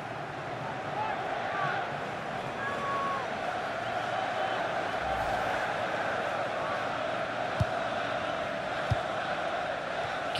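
Stadium crowd murmur from a FIFA 17 England vs Chile match, a steady broad roar running evenly throughout with a couple of brief sharp knocks late on, sitting under a commentator's voice.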